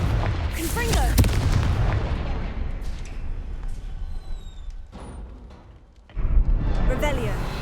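Confringo spell blasts in Hogwarts Legacy burst as deep, rumbling booms with a crackle on top, one after another. A short lull comes before a final loud explosion.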